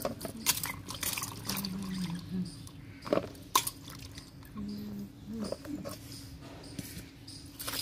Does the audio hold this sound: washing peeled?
yes